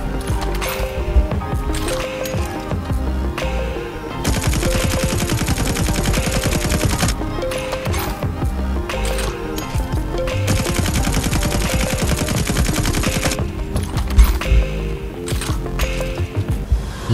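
M4 LMG light machine gun in Call of Duty Mobile fires long sustained automatic bursts, loud and close, separated by short pauses with mechanical clicks and faint background game sounds.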